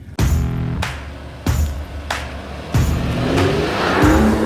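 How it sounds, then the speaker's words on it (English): A 2021 Mercedes-Benz GLE rolls steadily at walking pace over a rough, stony road, its engine a low continuous rumble with repeated thumps and knocks from the tires and suspension striking stones. "But the car just goes steady at 6 kph"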